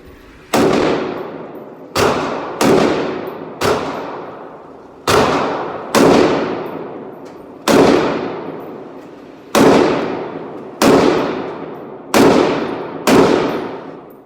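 A Galil rifle fires 7.62 NATO rounds at an outdoor range, eleven loud sharp reports spaced about a second apart, each followed by a ringing decay, with no talking between shots.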